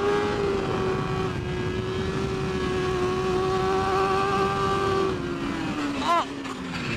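A MotoGP racing motorcycle howls at high revs on the throttle during a last-lap battle, a steady sustained engine whine that dips slightly near the end, with voices talking over it.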